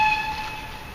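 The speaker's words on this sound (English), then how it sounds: "Now that's an awesome train." Train horn blaring at a railroad crossing as a train passes, a loud sustained multi-tone blast with rumbling rail noise underneath, heard up close.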